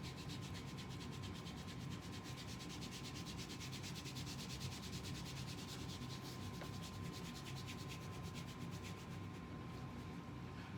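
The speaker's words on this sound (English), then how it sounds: "So then you rub it, so you give it some heat," Hands rub massage oil together to warm it during a lymphatic drainage massage, a steady close dry friction that runs without a break and with no talk.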